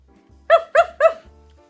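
A person imitates a dog barking during a children's storytime, giving three quick, evenly spaced 'woof' barks, close and clear over a faint low hum.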